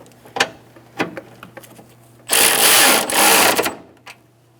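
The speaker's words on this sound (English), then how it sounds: "Tighten your other side." Bolts on the AC condenser of a 2012-2018 Ford Focus are run down with a power tool, giving a loud continuous whirring burst of about a second and a half, preceded by a few sharp clicks and clanks.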